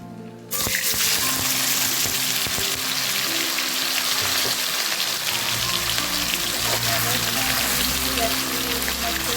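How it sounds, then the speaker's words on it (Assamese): Paneer drops into hot oil and erupts into a loud, continuous sizzle that holds steady, crackling and spitting close up. "এতিয়া পনীৰখিনি দি ভাজি ল'ম।"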